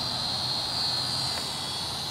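A Flyzone DH 82 Tiger Moth RC airplane flies at an RC club field, giving a steady, thin electric buzz that holds at a moderate distance and swells slightly midway, with no talking.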